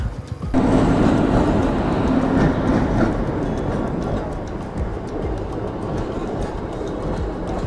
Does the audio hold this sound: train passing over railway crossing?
yes